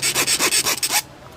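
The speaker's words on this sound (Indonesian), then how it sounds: "ini kalau stainless kayak gini, stainless ya, kita gesek-gesek kayak gini" A hand saw rubs back and forth across a stainless steel motorcycle spoke in about seven quick, loud, rasping strokes, then stops, with no talking.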